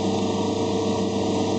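A center drill bores a small pilot hole in metal on a metal lathe, giving a steady continuous machine hum close by with no break.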